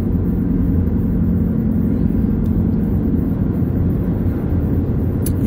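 Steady road traffic rumble from oncoming cars passing close by on a road, a continuous loud low drone with no break, heard from inside or beside a vehicle.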